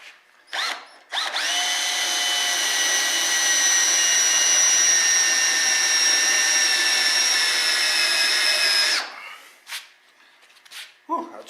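An old, hand-sharpened center drill cuts a center hole in metal for a welding-table lazy susan, a loud, steady high whine lasting several seconds that then stops, with short bursts of drilling before and after.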